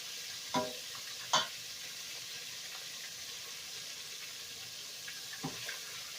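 Chicken gizzards sizzle steadily in hot oil with a constant frying hiss, punctuated by a few clinks and scrapes of stirring.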